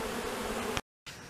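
A malicious honey bee colony buzzes in a dense steady drone, close and continuous, cut off abruptly for a moment before resuming.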